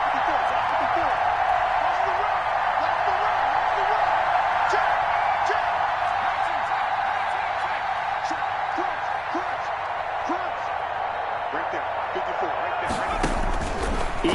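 A simulated stadium crowd in a PS4 American football video game roars steadily ahead of a big third down, a constant loud wash with scattered thumps and a burst of noise near the end.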